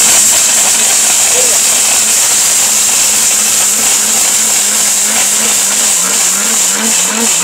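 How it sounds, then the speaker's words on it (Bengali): A Steel Bush blender grinds a whole brick into powder with a loud, continuous high whine and hiss that holds steady for several seconds at close range. "স্টিল বুশের ব্লেন্ডার 10 সেকেন্ড, মাত্র 10 সেকেন্ড।"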